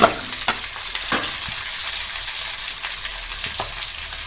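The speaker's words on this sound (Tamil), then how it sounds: "இப்போ நல்லா வதக்கிங்க" Curry leaves, onion, green chili and tomato frying in a pan for poori potato masala, a loud close sizzle with occasional stirring clatters and scrapes.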